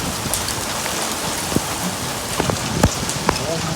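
Large hailstones fall hard during a storm, a roaring hiss of ice on surfaces punctuated by several distinct loud cracks and thuds from individual stones striking nearby.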